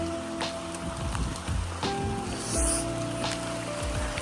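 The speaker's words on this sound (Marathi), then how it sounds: "थेंब थेंब पडतायत. पाऊस पण पडतोय." A light drizzle of rain falls at a village house, a soft, steady patter of drops with a few sharper ticks over a faint tonal background.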